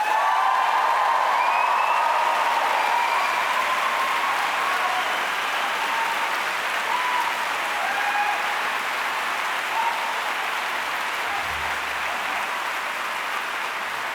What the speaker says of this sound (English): I'm going to invite you to give another round of applause to this incredible group of activists